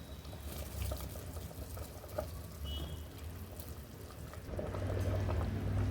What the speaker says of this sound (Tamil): இப்போ தண்ணி ஒரு கொதி வர ஆரம்பிச்சிருச்சுங்க.